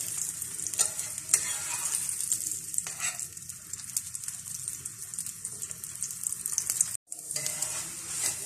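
Layered aloo paratha, a potato-stuffed flatbread, fries in ghee on a pan, giving a steady, close sizzling hiss that runs throughout with a brief break near the end.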